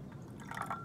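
Sugar water and salt water solutions being poured together in a classroom: a faint, brief liquid trickle with a few small drips and splashes, quiet and close.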